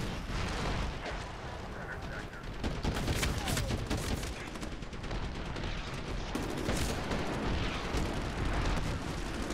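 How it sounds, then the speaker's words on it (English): A relentless barrage of explosions and gunfire fills a Medal of Honor Warfighter Sector Control match, with dense overlapping blasts and shots thundering loudly and continuously across the whole stretch. "every inch of the ground is exploding"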